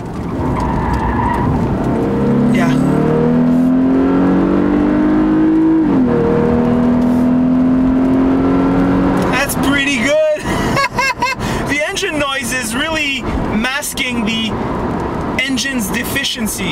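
A 2014 Lexus IS 250 engine drones and whines steadily, its pitch rising as it accelerates through a curve, followed by tire squeals and a voice talking excitedly over the engine.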